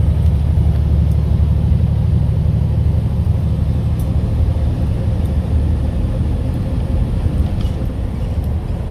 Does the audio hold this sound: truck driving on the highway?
yes